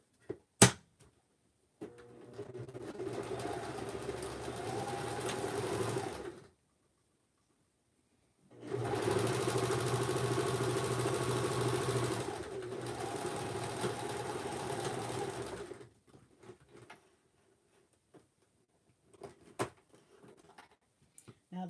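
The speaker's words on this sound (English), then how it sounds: "one more try at that straight stitch" A sewing machine runs a straight stitch in two sustained bursts of whirring motor and rapid needle clatter, separated by a short pause, with quiet handling clicks before and after.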